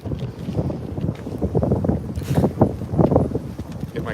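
Gusty wind buffets the microphone on a cold, stormy night on the Las Vegas Strip, a steady rough roar that swells in waves, with indistinct voices murmuring underneath.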